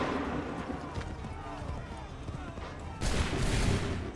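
A ragged musket volley firing in the Assassin's Creed 3 video game, a sudden loud crackling burst near the end that follows a low rumble of hooves and battle noise. A commanding voice is heard.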